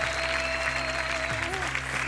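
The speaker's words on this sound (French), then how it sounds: "Un grand applaudissement, ils sont géniaux, sérieux." A television dance audition audience applauds steadily and loudly, a continuous wash of clapping with music and a voice threading underneath.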